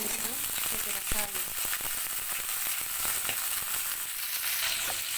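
Onion, garlic, cumin and two bay leaves crackle and sizzle steadily in hot oil, a dense continuous frying hiss with a few brief stirring clinks near the start.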